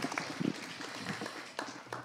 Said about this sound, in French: Merci beaucoup, on peut l'applaudir.